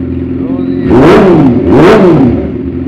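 A 2014 Yamaha R6 sport bike's exhaust revving, with two loud, close throttle blips rising and falling over a steady idle.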